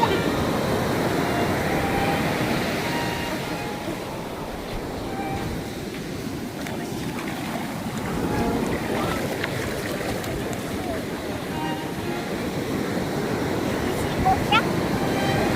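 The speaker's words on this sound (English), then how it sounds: "You see ocean? Ocean. Lucky ocean." Ocean waves at Dana Strand Beach roll in a steady, broadband roar mixed with wind buffeting, with a voice talking over the surf.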